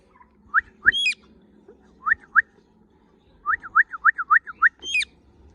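A small pet pigeon gives bright, high chirping calls in short bursts, answering a human whistle, with a quick rapid run of notes near the end; close and clear.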